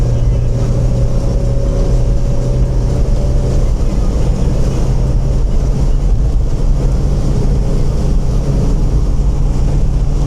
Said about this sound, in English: See if it picks up any exhaust.